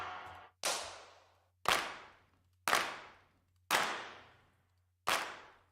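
Five big claps ring out at a steady pace, each sharp hit trailing off into a long, washy reverb tail before the next.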